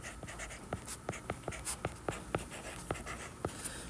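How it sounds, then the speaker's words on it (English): Pencil strokes on paper while writing out a trigonometry math solution, a series of short scratchy taps and strokes at an irregular rhythm, close and fairly quiet. "Let me write it out."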